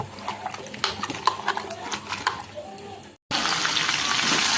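Tap water runs steadily and loudly into a sink as cut bananas are rinsed, a continuous rushing wash that comes in abruptly after a stretch of quieter kitchen clatter and faint background voices.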